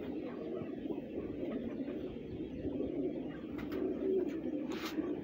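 Pigeons, a breed gifted by a friend from Gujranwala and kept by a pigeon fancier, coo softly and continuously in a low steady murmur, with faint background rustles and no talking.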